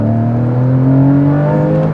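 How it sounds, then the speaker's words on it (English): A Porsche Cayman GTS (981) engine revs with its sports exhaust switched on, a loud, close, rising drone with strong harmonic tones climbing steadily across about two seconds, with no voices. "Turn the sports exhaust on, which I can by pressing this button down here, and then it sounds like an angry Greek god."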